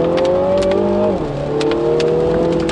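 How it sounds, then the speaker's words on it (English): A Mini GP3 with an automatic gearbox pulls away hard, its engine note climbing and then dropping as it shifts into a higher gear before rising again; loud and close, with no talking. "as you accelerate away, it holds onto the gear and you get this little push as it changes into the higher gear"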